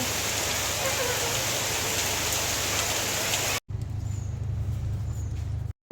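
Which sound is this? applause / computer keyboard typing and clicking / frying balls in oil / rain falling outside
rain falling outside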